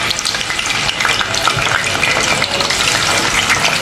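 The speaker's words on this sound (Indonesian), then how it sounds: "yang pertama kita goreng dulu tahu." Tofu frying in hot oil gives a dense, steady sizzle and crackle, loud and close, running without a break the whole time with no voices.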